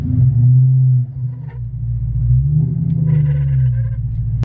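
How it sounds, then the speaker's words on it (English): A Cobra car with a worn clutch pulls away in first gear, giving a loud, steady low engine rumble that dips briefly after the first second, then swells again and holds until an abrupt cutoff. "It's every time I take off in first gear, it's giving me that noise."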